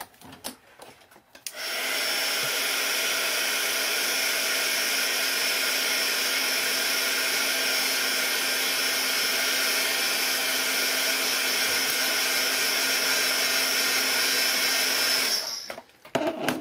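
A heat tool runs steadily for about fourteen seconds, drying Tim Holtz distress paint on a craft ornament, a loud, close, even whine that starts and stops abruptly.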